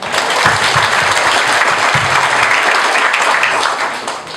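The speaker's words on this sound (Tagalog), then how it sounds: "Palakpak naman dyan" Audience applause at a business Q&A session, a loud, dense burst of clapping from a crowd that holds steady and then eases off at the end.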